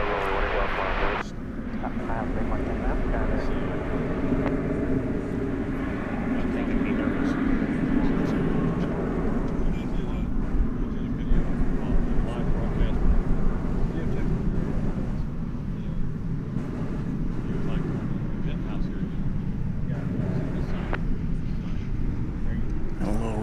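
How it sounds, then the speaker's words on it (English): Jet airliners, a Boeing Dreamliner and a Frontier Airbus A321neo, taking off side by side at DFW Airport, a steady broad engine roar rumbling across the whole stretch at moderate distance, with a voice talking over it. "A little race there between the Dreamliner and that Frontier A321neo."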